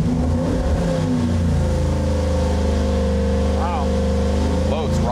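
A 410ci stack-injected EFI stroker LS engine on a dyno pull, a loud steady roar that climbs in pitch as it revs up through the pull, close and constant throughout.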